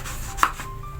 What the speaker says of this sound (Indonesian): Kita potong pipih seperti ini aja.